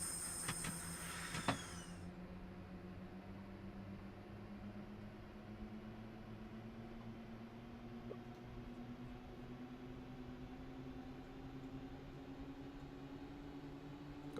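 Steady rumble of a train in Train Simulator Classic, a continuous low engine drone with a slowly rising pitch and brief hissing at the start, heard alone without talk.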